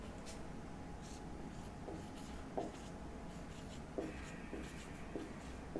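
Steady chalk or marker writing on a classroom board during a physics lesson, a continuous soft scratching with a few sharper taps, fairly quiet and without talk.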